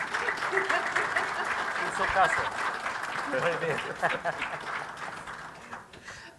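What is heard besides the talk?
audience applause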